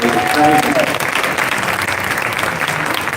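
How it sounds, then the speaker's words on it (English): Dense, loud applause from a demo day audience for an undersecretary, a continuous wash of many hands clapping close by throughout. "A round of applause for our undersecretary."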